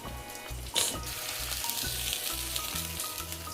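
Mustard seeds and curry leaves sizzle steadily in hot oil as a tempering for fish curry, with constant close frying crackle and a brief sharper pop early on.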